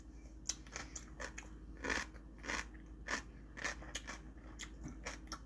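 Someone eats lunch alone at home, with close, quiet crunchy bites and chewing repeating about every half second and no talking.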